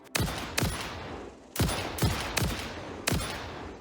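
Rifle shots in the video game Satisfactory, six sharp loud cracks in uneven spacing, each with a short echoing tail, and no voices.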